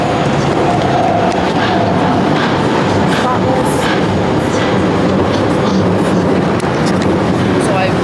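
Steady loud rumble of a subway train in motion in China, with rattling and clacking throughout and a voice speaking briefly over the noise.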